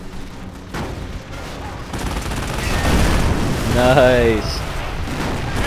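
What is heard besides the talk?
recoilless rifle firing in Company of Heroes video game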